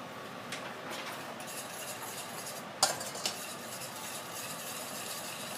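A sweet sauce of tamarind, sugar and salt simmers in a pot and is stirred, giving a steady bubbling hiss with a few quiet utensil clinks. It sits close and at low volume, with no talk.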